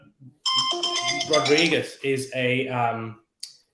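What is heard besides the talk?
phone ringtone ringing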